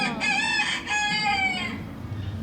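A loud, close rooster crow on Epcot's Living with the Land ride at Walt Disney World, a long rising and falling call with a brief break, trailing off at the end.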